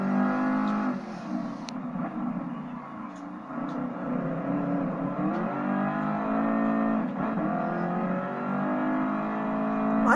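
Bugatti Veyron engine in the Gran Turismo racing game, a steady, loud droning hum with pitch rising and falling as the car accelerates and shifts, continuous throughout with no speech.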